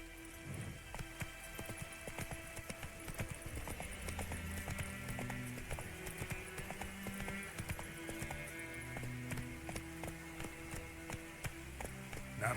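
Hoofbeats from Roach, the horse in The Witcher 3, as it gallops, a fast rhythmic clip-clop over a dense bed of game music and ambience, with a brief whinny-like note and no talking.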